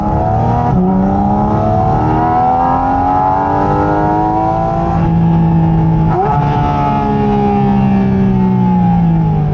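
A Porsche Cayman GT4 RS engine revs loudly and continuously, its pitch sweeping up and dropping with sharp blips as the gearbox downshifts, close and without talk.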